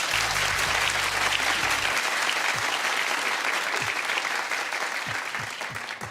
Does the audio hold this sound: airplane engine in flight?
no